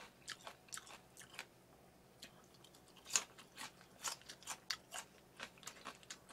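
Giant conch being chewed and eaten up close, a quiet series of irregular wet crunches and bites spread through the clip, with no talk.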